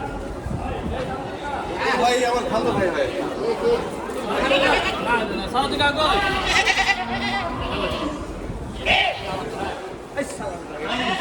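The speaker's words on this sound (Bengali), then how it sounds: "এইদিকে ছাগল নামানো হচ্ছে ক্যাটাল স্পেশাল থেকে" Several goats bleat repeatedly as they are unloaded from a cattle special train amid a busy crowd of people chattering and calling out nearby, continuous livestock noise throughout.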